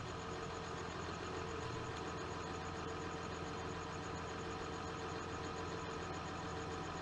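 John Deere tractor engine from Farming Simulator 2015, a steady, even drone of idling with no changes in pace, mid-level and alone.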